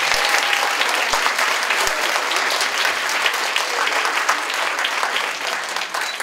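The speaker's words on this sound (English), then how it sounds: "Someone should give them a huge round of applause." A school audience at a DARE graduation gives the teachers a sustained round of applause, dense and steady clapping that holds at an even level for several seconds with no voices over it.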